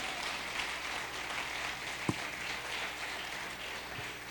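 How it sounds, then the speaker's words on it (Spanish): Church congregation applauding, a steady soft wash of clapping at some distance with one sharper thud partway through. "Vamos, dale un aplauso al papá."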